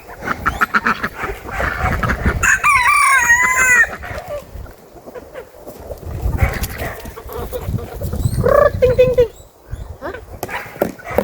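Poultry noise fills the air as ducks are fed: ducks quacking, chickens clucking and a rooster crowing, close by, with people talking over the commotion.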